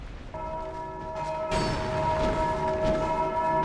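Heavy bells tolling in Dark Souls 2, a sustained ringing tone swelling louder with a deep boom partway through and lingering to the end.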